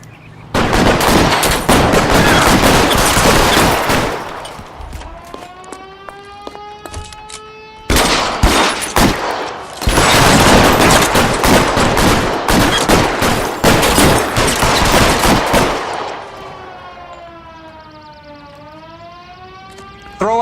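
Heavy gunfire roars through a shootout in L.A. Noire, loud rapid volleys in two long bursts with a wailing siren rising and falling between and after them.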